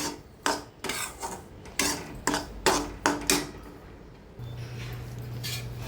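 Roasted semolina (rava) for a Diwali karanji filling is scraped out of a kadhai with a metal utensil, about eight sharp rasping strokes in a row, followed by a steady low hum.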